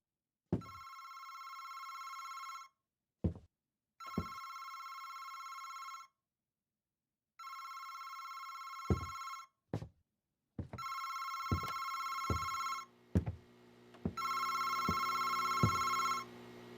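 A telephone bell rings in long repeated bursts separated by short pauses, loud and close, with sharp knocks and clatter between the rings and a brighter ringtone joining near the end.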